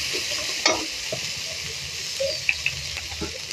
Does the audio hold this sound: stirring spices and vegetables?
yes